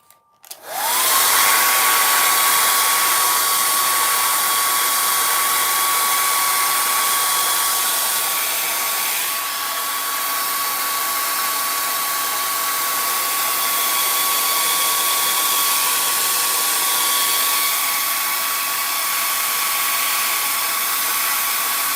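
A hair dryer, used to dry a layer of paint, starts up and runs steadily at close range, a loud continuous whooshing roar with a constant high motor whine.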